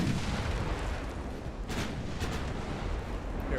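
Warship broadside cannon fire in the naval game Ultimate Admiral Dreadnoughts, heard as a continuous deep rumbling roar of heavy guns with a few sharper bursts, steady and fairly loud with no talking.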